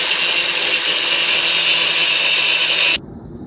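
Power tool chasing the threads of a factory head bolt on a 1978 Pontiac Trans Am engine, a loud, steady high whir for about three seconds that cuts off abruptly into quiet.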